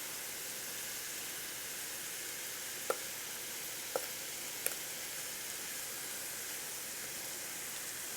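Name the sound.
garlic and tomato paste sizzling in a pan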